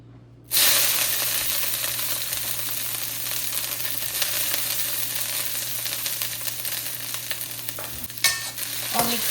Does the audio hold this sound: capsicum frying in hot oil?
yes